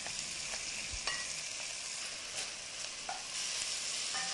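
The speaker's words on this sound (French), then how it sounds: "on va pouvoir ajouter les oignons et l'ail que l'on fait également dorer" Onions and garlic frying and browning with beef in a pan for a traditional boeuf bourguignon, a steady close sizzle with occasional stirring scrapes and small pops throughout.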